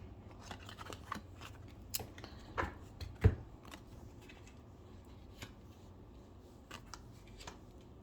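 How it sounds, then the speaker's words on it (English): Tarot cards are dealt and laid out one by one, producing quiet, scattered sharp card snaps and slaps at an uneven pace over a hushed background, with one louder tap. "I'm going to drop 9 cards."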